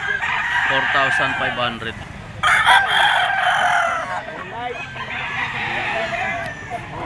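Several gamecocks crow repeatedly at a Lipa auction market, among them a pumpkin sweater yellow-legged bull stag, with clucking and overlapping cries and someone talking briefly over them.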